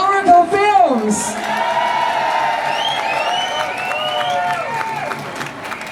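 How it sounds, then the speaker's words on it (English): An audience at a London event roars with whoops, cheers and applause after a voice calls out, the crowd noise rising and then holding as a broad, sustained wash. "Massive round of applause for Oracle Films."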